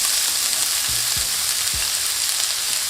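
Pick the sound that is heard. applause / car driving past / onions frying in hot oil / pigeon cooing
onions frying in hot oil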